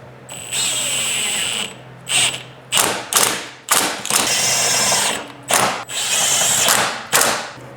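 A power tool driving OEM hardware back into a Perrin rear subframe lockdown bracket on a Subaru WRX, loud, close whirring bursts: one long run, then about six short rattling pulses separated by brief pauses.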